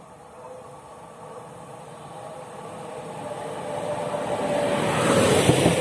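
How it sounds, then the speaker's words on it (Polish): A Regio regional train on the Szczecin Główny–Nowogard route pulls into Szczecin Dąbie station, a steady rumble and rail hiss building louder as it draws closer, with no talk. "Wjeżdża pociąg Regio, relacji Szczecin Główny, Nowogard."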